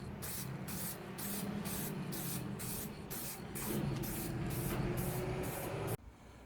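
An aerosol can sprays another coat of paint onto a model aircraft cowling in short, evenly spaced hissing bursts, about a dozen rhythmic close sprays over a low background hum, ending abruptly.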